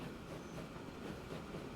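A Transport Fever 2 train runs along the track slowed behind a freight train, a soft steady rumble with faint rhythmic rolling, distant and low in level throughout.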